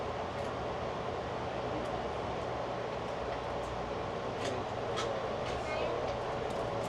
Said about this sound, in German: Genießen wir die unglaubliche Beschleunigung der riesigen Diesellok.